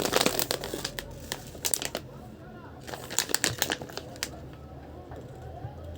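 A heavy plastic bag holding about a kilo of medium-sized prunes is handled, giving bursts of close, crackly crinkling that come and go, with quieter rustling between them.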